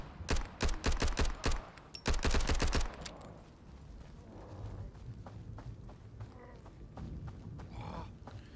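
Gunfire in the video game Road to Vostok: loud, rapid bursts of automatic shots in two quick volleys, followed by quieter footsteps and movement with faint thuds.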